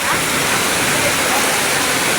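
A dense downpour roars without pause, very heavy rain hammering nearby, loud and even from start to finish.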